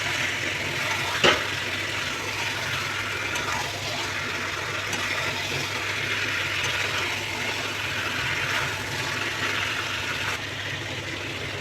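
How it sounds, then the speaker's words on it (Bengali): Chicken curry sautéing in a pan gives a steady, continuous sizzle with a low background hum, plus one brief clatter near the start. No one speaks. "চিকেনটা হালকা হালকা কষে এসছে, আর 5 মিনিট রাখবো ভালোভাবে কষার জন্য।"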